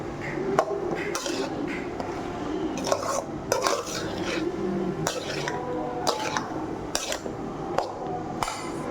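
Egg rice stirred in a pan, with a spoon clinking and scraping against the metal at an irregular pace over a soft cooking background, no voices.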